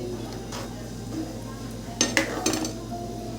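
A metal spoon clinks and scrapes inside a cooking pot of simmering dal with dough pieces, with a few sharp knocks near the end over a low steady hum, faint and close.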